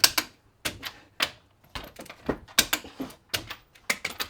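A torque wrench tightens wheel lug nuts on a Honda Element, giving a quick run of sharp, close metallic clicks in uneven bursts with brief gaps between them.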